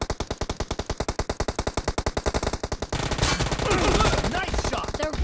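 Gunfire in a Pung Mobile video game match: rapid automatic bursts of evenly spaced shots for about three seconds, then denser overlapping game noise and effects.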